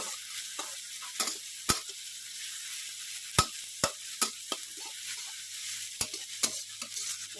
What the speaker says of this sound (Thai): ใส่พริกกระเทียมลงไปนะคะ